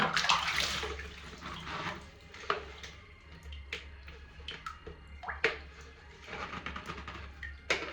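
Tap water running while kitchen utensils and container lids are washed, a steady low water rush broken by irregular clinks and knocks of dishes, fairly close, with no talking.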